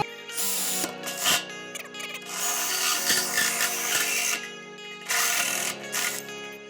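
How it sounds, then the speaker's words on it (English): A drill fitted with a 2 3/4 inch hole saw cuts into a metal stock tank, a loud grinding, ringing whir in several bursts with brief pauses between. "So what we're gonna use for the hole is a 2 3/4 hole saw."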